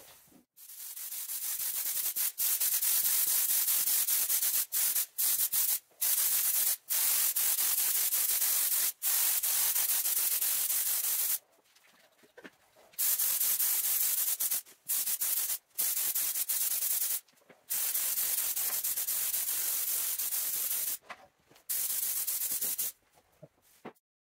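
Spray gun laying coats of paint on an Aston Martin DB7 bumper, loud hissing bursts of spray of varying length separated by short silences, close and alone without speech.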